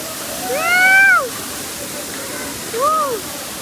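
A steady rushing roar of Dhangar waterfall in Badlapur fills the background while two drawn-out voice calls rise and fall over it.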